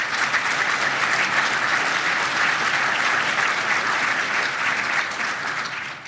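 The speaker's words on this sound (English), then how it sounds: "Let's give Kip one more big round of applause" Conference audience applause for an award winner at an economic forecast event, a thick sustained roar of clapping that holds steady for several seconds before easing slightly at the end.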